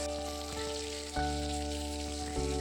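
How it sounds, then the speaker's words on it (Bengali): Katla fish sizzling in hot mustard oil, a steady loud crackle with a hum underneath and brief clatters where pieces shift or land in the pan. "সর্ষের তেলটা ভালোভাবে গরম হয়ে গেলে মাছ দিয়ে ভালো করে ভেজে নেব মাছগুলো"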